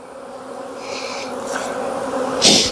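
Honey bees from pollination hives buzz in a close, steady swarm as brood frames are shaken during a hive split, with brief louder bursts near the end.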